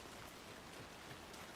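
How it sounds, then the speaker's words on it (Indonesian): Steady rain falls in the horror game Alan Wake 2, a dense, even hiss of drops that stays faint and unbroken throughout, with no voices. "Woi hujan woi masuk."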